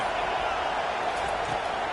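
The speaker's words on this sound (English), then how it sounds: "Here comes the crowd trying to make it tough on 3rd and long." A football stadium crowd roars on 3rd and long, a dense, steady wall of cheering and shouting that holds at one level with no breaks.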